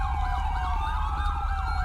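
A police car siren in FiveM wails continuously with a fast, rising-and-falling yelp, loud and close, over a low rumble.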